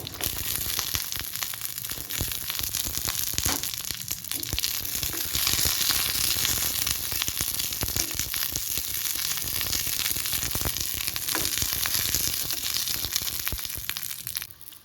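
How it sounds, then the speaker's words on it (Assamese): Garlic cloves and green chillies fry in hot oil, giving a steady, dense sizzle that holds close and loud for the whole stretch with faint crackles and occasional stirring, then eases at the very end; no one speaks. "নহৰু আৰু জলকীয়া কেইটা ধুনীয়াকৈ ফ্ৰাই হৈ গৈছে"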